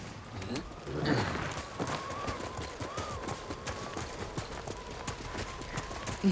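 A horse gallops in a feudal Japan samurai game, with fast, continuous hoofbeats at moderate volume through the clip, over ambient wind and no talk.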